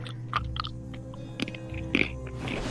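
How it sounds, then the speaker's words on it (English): A character crunches apples taken from a barrel in the Omensight video game: a few scattered, crisp bites and chewing noises at moderate volume over a low, steady game ambience, with no talking. "That is a crunchy fruit"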